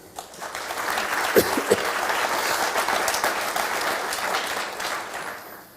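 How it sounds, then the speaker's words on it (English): A room of listeners applauds at a talk on learning an Indigenous language, dense clapping swelling in after a moment, holding steady for several seconds, then tapering off near the end. "A round of applause for Aaron."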